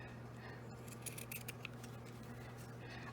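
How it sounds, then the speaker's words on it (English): Scissors snip and crunch through fabric squares for a Fourth of July banner, with a few quick cuts clustered in the middle over a steady low hum, close and faint with no talking. "keep it evenly spaced as you're trimming your fabric"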